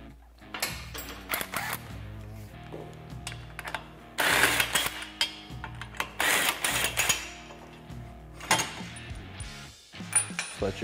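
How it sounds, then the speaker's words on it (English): Brake caliper bolts come off a Polaris RZR XP Turbo with a close, irregular run of ratcheting clicks, metallic clanks and taps, and short bursts of tool noise. "Then we'll go ahead and remove our brake caliper bolts."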